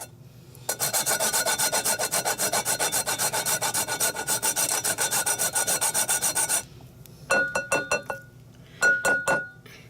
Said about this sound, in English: you just grate it down with your microplane